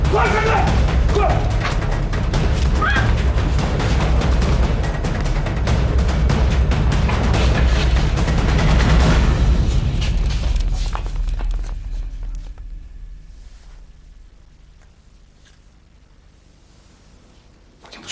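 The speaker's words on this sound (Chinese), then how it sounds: "这是家属为了迎接病人出院放的鞭炮，可以驱邪。" A string of firecrackers is set off in a hospital corridor to welcome a patient home, giving a loud, dense crackle of rapid bangs for about ten seconds that then fades to quiet, with voices mixed in.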